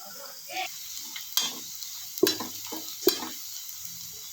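Garlic frying in a pan for vagarane rice gives a soft, intermittent sizzle punctuated by a few sharp clinks and scrapes of a stirring spoon.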